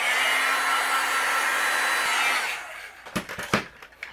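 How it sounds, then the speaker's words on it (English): A heat gun blows a loud, steady rushing whoosh while drying cardstock for about two and a half seconds, then shuts off, followed by a few light handling clicks and taps. "You can use your heat gun to dry these too, which I think I'm going to do."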